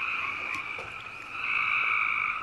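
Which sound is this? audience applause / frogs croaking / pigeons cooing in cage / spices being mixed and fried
frogs croaking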